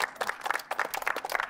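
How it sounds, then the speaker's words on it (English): A small audience claps for a performer in short, scattered bursts of handclaps, close and fairly loud, with brief pauses between flurries. "Let's clap it up for him"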